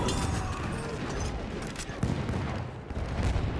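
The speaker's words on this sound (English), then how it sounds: "I shot this dude in the back." Dense, continuous Battlefield 1 gunfire, with rapid overlapping shots and explosions forming a loud, steady wall of combat noise and no pauses or talk.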